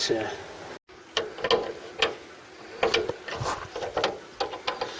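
Ratcheting wrench working at a badly corroded bolt on a Mk3 Cortina, a run of short metallic clicks and scrapes in uneven bursts, close and fairly loud, with a brief gap early on.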